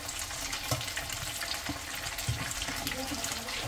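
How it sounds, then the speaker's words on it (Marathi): Dal bati dough balls deep-frying in hot oil over a medium-to-high flame, a steady, moderately loud crackling sizzle with a few soft knocks running throughout, no talking. "तर आता आपण सगळ्या बट्ट्या याच्यामध्ये तळून घेऊया"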